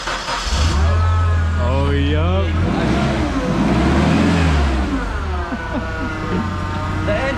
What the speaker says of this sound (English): The engine is cold, so let it warm up.